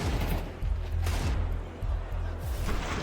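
Rapid rifle and pistol fire from a Counter-Strike 2 pro match at BLAST Open Rotterdam 2026, with repeated sharp shots landing in quick bursts, loud and close, with brief gaps between volleys.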